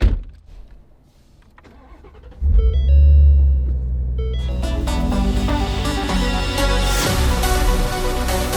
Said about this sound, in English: So let's go ahead and get inside the GT350R and finish off this road trip and get to Las Vegas.